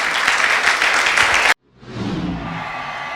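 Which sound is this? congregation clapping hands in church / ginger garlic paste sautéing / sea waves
congregation clapping hands in church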